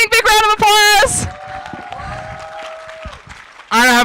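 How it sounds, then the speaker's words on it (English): Audience applause at a RoboMaster robotics competition, a brief burst of crowd clapping between loud announcer speech at either end, with faint tonal sounds under the clapping. "Big round of applause."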